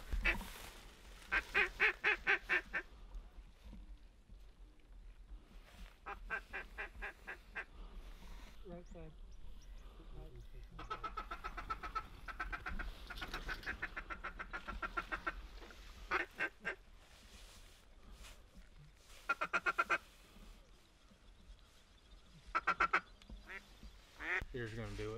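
Ducks and Canada geese quack and honk in repeated bursts around a large hunting decoy spread with A-frame blinds, some calls loud and close, while people talk quietly between them.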